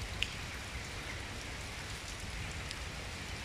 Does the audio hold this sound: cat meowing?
no